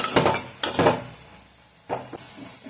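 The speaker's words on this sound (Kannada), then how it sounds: "ಎಣ್ಣೆಲಿ ಚೆನ್ನಾಗಿ ಫ್ರೈ ಮಾಡ್ಕೊಳ್ಳೋಣ." Paneer frying in oil in a pan, with bursts of sizzling and stirring scrapes in a few short clusters, close and moderately loud, quieter crackle between them.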